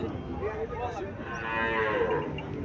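A desi cow at a cattle market moos once in a long, loud, drawn-out low call close by, with no talk over it.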